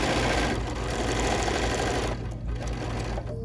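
A sewing machine runs steadily, stitching a pinned quilt block, a continuous close mechanical whir with a low hum that eases slightly toward the end, with no talking.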